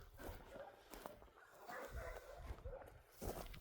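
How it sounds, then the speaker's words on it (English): Dogs bark in the distance in a rural Australian back block, faint intermittent barks under a quiet outdoor background with no one speaking. "You can hear my dogs barking in the background."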